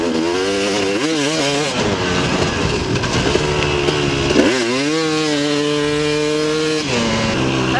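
A KTM 250 SX dirt bike warming up on a hot day, its engine droning loud and close with rising and falling revs and sharp throttle blips.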